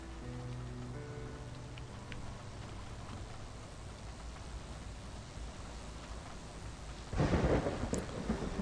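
Thunderstorm in the video game Flower: soft steady rain with faint low tones in the background, then a sudden loud rumbling thunder crash near the end.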